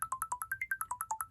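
A quick smartwatch 'wind-up' ringtone of rapid, evenly pulsed ticking chirps, a mechanical winding rhythm of bright repeated beeps at moderate volume.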